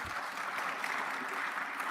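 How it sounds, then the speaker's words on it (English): Graduates of a Lagos Business School executive programme applaud themselves at their ceremony, a steady, fairly faint wash of clapping from a large crowd that holds evenly throughout. "Clap for yourselves, please."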